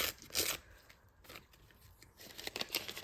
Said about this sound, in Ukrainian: давайте тоді порвемо цей пакетик